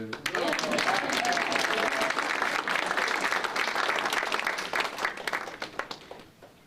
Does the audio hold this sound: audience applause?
yes